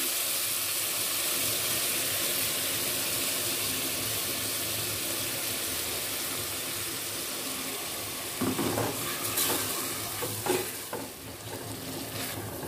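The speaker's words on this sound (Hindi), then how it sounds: "और अब मैं गोश्त को शामिल कर रही हूँ।" Meat frying in oil with masala in a pan for dum gosht, a steady continuous sizzle with stirring scrapes and clatter growing louder near the end, no talk.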